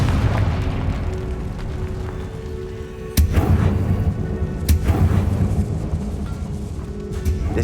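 Confringo fire spell blasts in the game Hogwarts Legacy, a couple of sharp booming explosions over a rumbling low background with a faint game voice.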